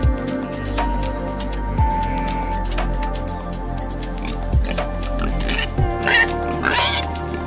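A pig grunts and oinks in a few short low bursts spaced across several seconds, close and fairly loud, with scattered clicks and other small animal noises between them.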